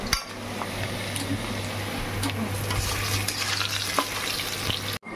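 Onions frying in a pan as chicken is prepared for a home-cooked khichuri meal, giving a steady close sizzle with a low hum underneath and occasional utensil scrapes throughout, ending with a brief cut.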